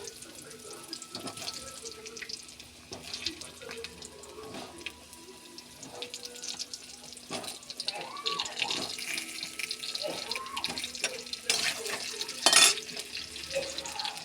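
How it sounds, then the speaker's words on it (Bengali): Potatoes fry in hot salted oil on a home kitchen stove, giving a quiet, continuous sizzle and crackle with occasional stirring clinks, and a faint voice murmurs in the background. "আলুগুলো লাল লাল করে ভেজে নেব।"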